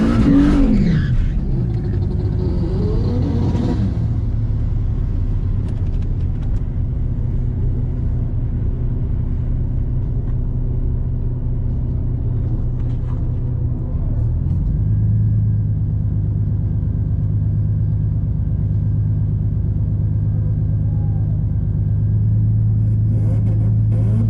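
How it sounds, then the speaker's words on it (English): A Mercedes SLK32 AMG does a short burnout at a drag strip on a very hot day, a loud, close engine rumble rising to a sustained high rev and holding steady, with no talk. "we're going to do a small little burnout"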